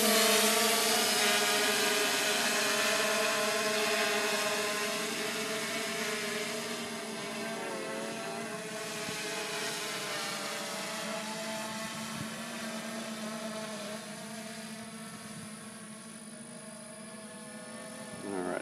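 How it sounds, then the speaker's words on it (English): A 3DR Solo drone's motors spin up and lift off over a soccer field, making a steady, high-pitched whirring whine with layered tones that shift slightly in pitch as it rises, fairly close and alone. "we'll go ahead and hit the fly button and it'll start up the motors"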